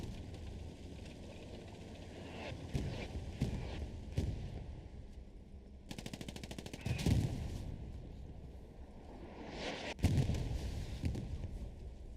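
Gunfire in a competitive WWII video game match, several shots with a tank fight in progress, sounding as repeated bursts over a steady rumbling battle background.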